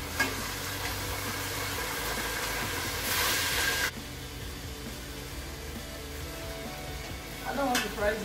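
Fish frying in palm oil in a pan gives a loud, steady crackling sizzle that briefly swells brighter, then settles, with a short clatter near the end.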